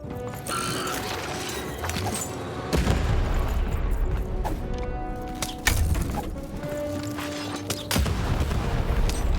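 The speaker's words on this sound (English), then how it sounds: "cannon." Cannons fire in the video game Lost in Random, sharp booming shots repeating every couple of seconds over busy mechanical clanks and ratcheting gear noise, with no talk.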